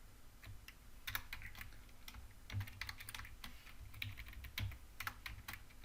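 Steady typing on a computer keyboard while entering database-related code for an ASP.NET MVC 4 application, with continuous clustered key clicks and occasional heavier strokes at moderate level, no talking.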